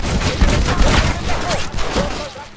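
Shotgun blasts in the Western video game Red Dead Redemption, several loud booming shots in quick succession amid gunfire clutter, with a voice talking over parts of it.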